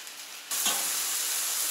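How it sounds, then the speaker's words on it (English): Bacon lands on a hot Camp Chef FTG600 flat top griddle and a soft, steady sizzle of frying begins abruptly, faint and continuous with no voices. "I'm going to lay my bacon out."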